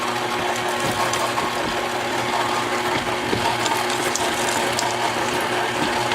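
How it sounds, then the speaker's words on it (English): An electric stand mixer churns chocolate chips into cookie dough, with a loud continuous mechanical whir and gear-like ratcheting rattle that holds steady throughout, alone with no voices. "I like to do this in the mixer because it helps to mix them fairly evenly"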